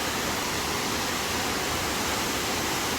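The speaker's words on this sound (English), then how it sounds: "I don't know if you can even hear me over the waterfall" A waterfall roars in a steady, dense wash of broadband noise, loud and close, unbroken for the whole stretch with no voices.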